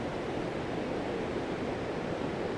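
Rushing white water of a waterfall partly screened by trees, a loud, steady broadband roar that holds unbroken throughout with no voices.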